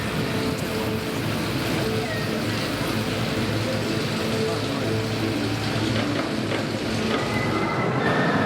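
The Colossus roller coaster at Thorpe Park rumbles along its track with a continuous metallic roar and faint wheel squeal, heard from the nearby queue line amid crowd noise.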